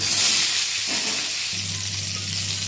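Potato, pointed gourd and papaya frying in hot oil with whole spices, a steady close sizzle and hiss that thickens into a louder bubbling fry partway through.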